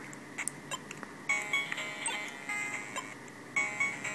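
The Game Boy racing game F1 Race, starting a new game, gives off short electronic beeps and chiptune blips in uneven bursts over a faint background hiss, with no one talking.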